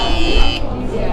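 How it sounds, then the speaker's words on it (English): A laser tripwire alarm built for a science fair gives a loud, steady electronic buzz under a person talking, and the buzz cuts off about halfway through. "If I cut the beam, you hear a buzzing sound."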